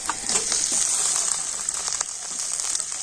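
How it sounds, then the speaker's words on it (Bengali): Tomatoes sizzling steadily in hot oil in a pan just after fried onions, a dense continuous crackle with small pops, close and fairly loud with no talk. "আর টমেটোটা আমি একটু তেলের উপরে ভাবে নাড়াচাড়া করে নেব।"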